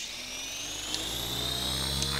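Simulated RC helicopter flying funnels and hurricanes in the AccuRC simulator, a steady high-pitched rotor and motor whine with a constant hum, holding level throughout with no talk over it.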